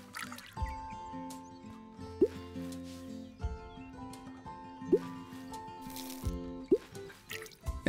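Crops being watered in the Big Farm Story video game give soft dripping and splashing effects recurring every couple of seconds over steady background game music, with no talk.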